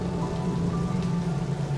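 Steady rain pours down in the Splinter Cell video game, a dense, even patter and hiss with a low rumble underneath, continuous and unbroken with no voices.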